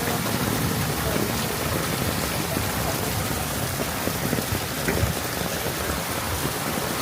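A downpour of heavy rain drums hard and continuously on surfaces nearby, a thick roaring hiss with scattered louder drop impacts and no voices.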